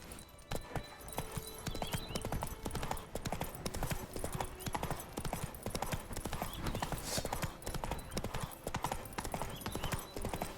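Roach, a horse in the video game The Witcher 3, galloping with rapid, rhythmic clip-clop hoofbeats that continue without a break, loud and close, with faint ambient game sound beneath.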